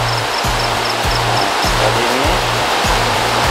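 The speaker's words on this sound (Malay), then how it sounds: "Ada kepala air." A river rushes loudly in a sudden flash flood surge at a campsite, a dense, continuous roar of turbulent water heard up close, with no voices over it.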